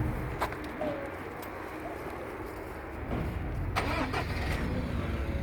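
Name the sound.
vehicle engine starting and running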